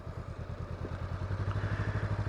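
A motorcycle engine idles with a steady low, even putter during slow-speed tight-turn practice, close and moderately loud.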